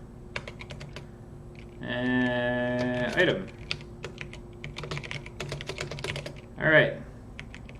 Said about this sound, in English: I don't know what the hell I was typing